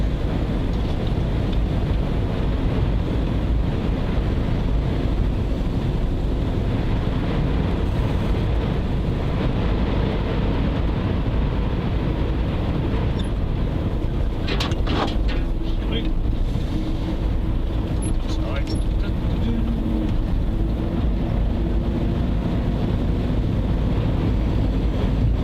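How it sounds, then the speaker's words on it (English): Strong, gusty wind battering the microphone aboard a boat, a continuous loud roar lasting throughout with no letup and a few brief knocks midway. "Because this wind's quite nasty."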